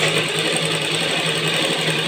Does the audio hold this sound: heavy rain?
no